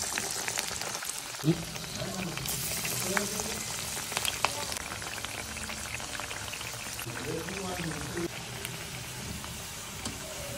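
Chana dal vadas with leafy greens fry in hot oil, a steady, soft crackling sizzle with faint pops throughout, while a voice talks quietly over it.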